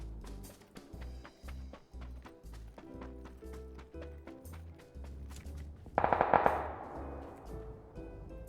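Gunfire in PUBG: Battlegrounds, a brief loud cluster of sharp shots about two-thirds through, set against steady rhythmic game sounds and music-like thumps throughout.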